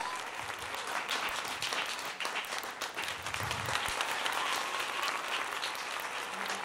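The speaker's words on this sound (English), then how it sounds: "So please give these students a round of applause" An audience applauds students steadily throughout, dense continuous clapping that swells slightly toward the end.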